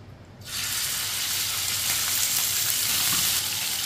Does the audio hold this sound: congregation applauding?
no